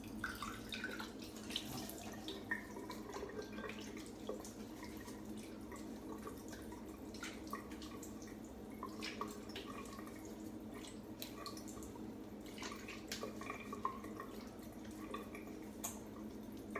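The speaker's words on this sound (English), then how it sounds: "I get to use both hands to rinse." Water splashes and drips faintly as a face is rinsed with both hands after shaving, with irregular small splashes over a steady low background hum.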